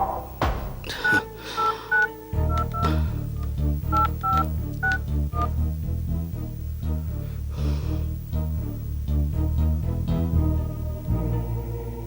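A series of telephone keypad tones beep in quick succession, some short and rhythmic, over a low background hum; no voices.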